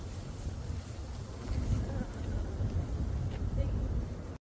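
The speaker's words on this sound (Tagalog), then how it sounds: "Hangin ang lakas." Strong wind buffets the microphone in a constant low roar that swells and dips, with no clear talking, ending abruptly.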